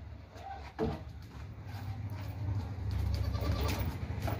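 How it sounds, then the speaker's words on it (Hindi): Goat bleating close by in a livestock setting, a single short bleat followed by low background noise and a faint rumbling. "खाने पीने वाली बकरी है, बढ़ने वाली बकरी है, ज़बरदस्त बकरी है"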